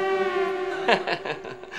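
An ambulance siren wails steadily nearby as one sustained, loud tone. Brief clattering noises sound over it partway through.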